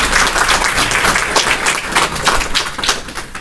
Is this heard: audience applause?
yes